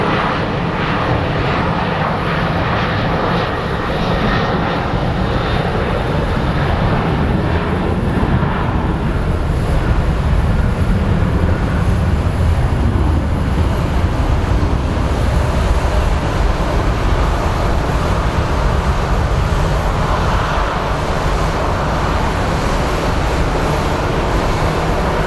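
A departing airliner at Sky Harbor International Airport, bound for San Francisco, roars steadily and loudly through the whole stretch, a broad sustained jet rumble with no talk over it.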